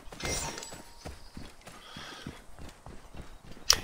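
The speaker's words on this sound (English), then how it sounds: "look at all these fucking horses." Horses walking in the video game Assassin's Creed Origins, with a steady run of soft hoof clip-clops at moderate distance and a brief sharp sound near the end.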